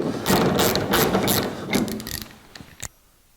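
Hand ratchet working loose the hinge bolts on a 1982 Jeep CJ7, a fast run of close, loud clicking strokes that slows into a few separate clicks before falling quiet, no voices.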